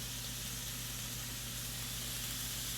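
Bacon frying on low heat in a pan gives a steady, soft sizzle with a faint hiss, even and unbroken throughout with no voices.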